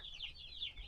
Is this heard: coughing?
no